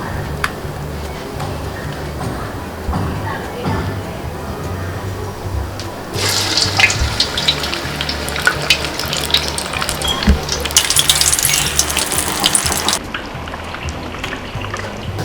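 Vada batter hits hot oil in a large pan for bulk cooking, and a loud, steady sizzling hiss swells and holds for several seconds over a low background hum.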